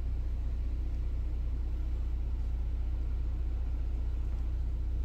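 Road traffic near Bob Sandlin State Park, where deer graze, makes a steady low rumble that holds level throughout, close by and unbroken, with no voices.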